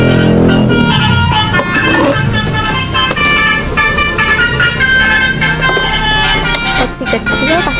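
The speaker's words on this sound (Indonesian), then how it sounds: "Suaranya juga seperti bus basuri pada umumnya ya, dan suaranya seperti bus basuri yang asli." A toy Basuri bus plays its horn tune, a loud, bright, melodic honking sequence that runs throughout, layered with busy electronic sound close to the device.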